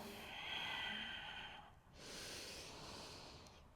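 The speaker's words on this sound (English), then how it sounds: "Enjoying your deep breathing with sound" A long, deep exhale through the nose, then a slow, audible breath drawn in, as in Ashtanga-style yoga breathing. Close and steady, with no speech.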